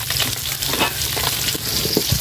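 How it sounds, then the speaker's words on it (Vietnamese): Fish frying in a pan in a rural home kitchen, giving a dense, continuous crackling sizzle with small spitting pops throughout, close and fairly loud with no talk. "Hồi nãy giờ anh chiên cá"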